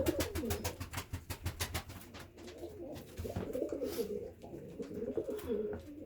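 White pigeons coo in a soft, repeated series, close by and moderately loud, with a bird-market setting and occasional rustling and scratching around them; no one talks.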